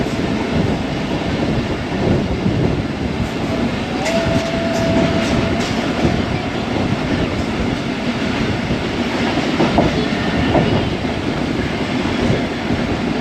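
Pak Business Express train rolling through Pattoki railway station at reduced speed, with steady rumbling wheels and clickety-clack over the rails, a brief squeal of metal, heard from on board throughout.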